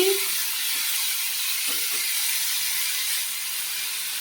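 Garlic and spices frying in a pan for a Bengali rohu fish curry give a steady close sizzle and hiss throughout, with a couple of faint utensil clicks near the start.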